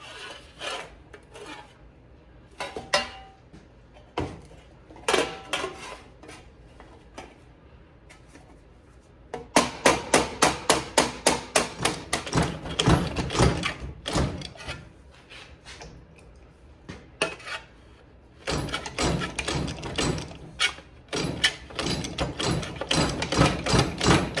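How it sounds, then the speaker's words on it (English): Sheet metal for a truck cab corner is struck in bursts of quick, sharp metallic blows, loud and close, with runs of evenly spaced hits separated by short quiet pauses. "I'm just gonna hit it little by little, go test fit it, and just keep hitting it"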